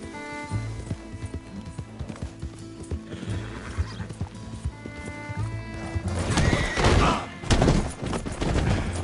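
A horse in a PS4 video game gallops with rapid, loud hoofbeats, then gives a long, full neigh toward the end; faint speech is present.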